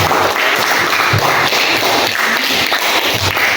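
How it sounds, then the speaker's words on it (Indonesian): A classroom group claps for the third student team after its presentation on Islamic purification, steady dense clapping that fills the clip at close range with no voices over it. "Silakan kasih tepuk tangan untuk kelompok 3"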